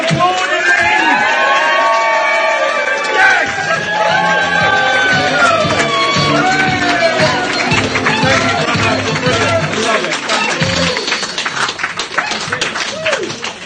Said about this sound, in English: Keep applauding me.